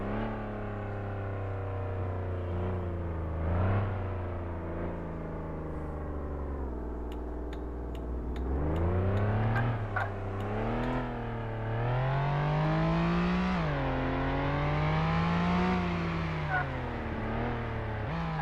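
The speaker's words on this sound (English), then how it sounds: "This car can really take off." A video-game car engine revs up, its pitch sweeping higher through repeated accelerations, loud and close, with electronic effects layered on top.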